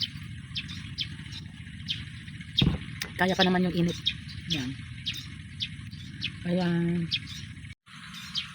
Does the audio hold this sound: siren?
no